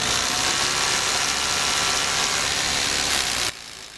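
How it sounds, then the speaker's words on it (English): A loud, steady whirring power drill bores a 3/8-inch hole for a sleeve anchor, running continuously for a few seconds, then cutting off abruptly near the end. "We're going to drill a 3/8 hole"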